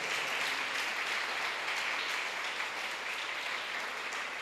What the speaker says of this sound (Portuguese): Vamos aplaudir ao Rei Jesus, por favor.